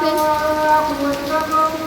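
Heavy rain falls in a steady, loud, continuous wash with no talk, and a faint tonal hum runs underneath.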